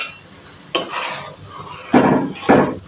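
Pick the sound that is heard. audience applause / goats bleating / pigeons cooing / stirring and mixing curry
stirring and mixing curry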